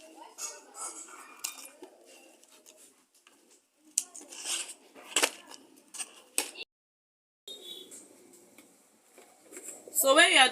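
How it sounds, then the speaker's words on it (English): Scissors snip and trim the rough edges of a handmade leather tote bag, with a series of short, crisp clicks and cuts close by amid soft handling noise and scattered speech. "So if there's any rough side, you use your scissors."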